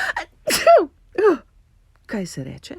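A single sudden sneeze bursts out near the start, followed by someone speaking in Slovenian.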